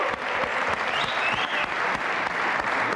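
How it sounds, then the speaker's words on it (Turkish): A television game show studio audience in Turkey applauds steadily, a dense, even wash of clapping hands lasting the whole stretch without a pause. "İşte şimdi gerçekten aramızdan biri oldu. Adriana Lima'yı alkışlıyoruz."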